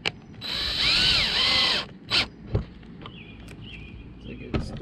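A power drill drives silicone-coated screws into a kayak fish finder mount, a loud whining run with pitch sweeps for over a second, then short bursts and clicks nearby.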